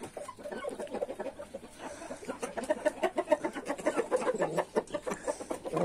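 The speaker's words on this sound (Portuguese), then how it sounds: "Galinhazinha branquinha aqui, ó." A white hen clucks in a series of short soft calls, close by and moderately quiet, with faint rustling and farmyard background.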